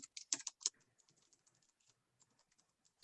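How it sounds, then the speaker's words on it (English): Several quick keyboard keystrokes in a short burst, close and fairly quiet, as a web address is typed on a computer keyboard, followed by near silence and a louder click at the end. "I'll type that in."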